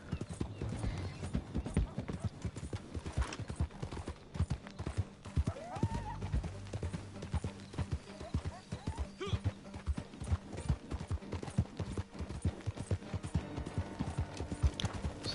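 Steady clip-clop of a ridden horse's hooves in a video game, a continuous rhythmic trot through the whole stretch with a brief whinny, while someone talks over it.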